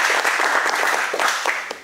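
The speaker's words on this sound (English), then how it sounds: "Everyone give a round of applause to Janitor." Audience applause at a Toastmasters meeting, a steady patter of many hands clapping close by throughout.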